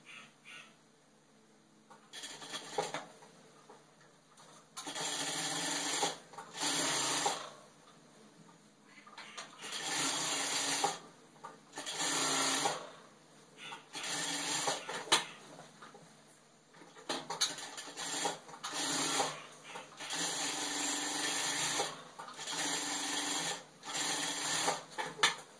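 Sewing machine stitching a denim kurti, with bursts of fast running stitches stopping and starting at intervals, fairly close and alone.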